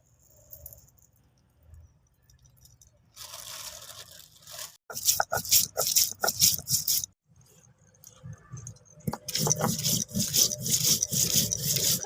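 Whole coriander seeds ground by hand on a flat grinding stone, with bursts of rough, rhythmic scraping strokes, close and fairly loud, separated by quiet pauses.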